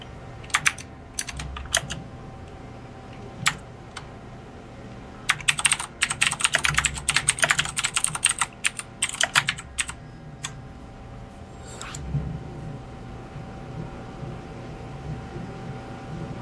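Computer keyboard typing during an online game league session, with scattered key clicks breaking into a dense rapid burst in the middle, then sparse taps, close and fairly crisp over a faint hum.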